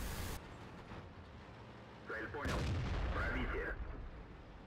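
Tank cannon shots in the World of Tanks video game, fired from a T-54 at enemy tanks: two heavy booming blasts over a steady engine rumble, with an echoing tail after the second.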